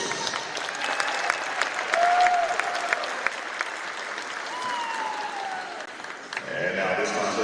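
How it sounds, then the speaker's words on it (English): A stadium crowd applauds the officials at a 5A state semifinal football game. The clapping is steady and fairly distant, with faint cheers and whistles rising now and then across the stands. "A round of applause for today's officials."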